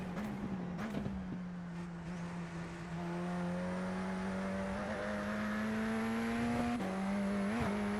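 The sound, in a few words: race car engine driving in iRacing video game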